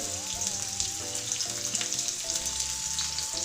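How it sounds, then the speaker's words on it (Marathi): Finely chopped onion sizzles in hot oil in a kadhai with a steady, close crackle, while faint tonal background music plays underneath. "तेल गरम झाले आहे त्यामध्ये ह्या बारीक चिरलेला कांदा एक टाकून घ्यायचा आहे"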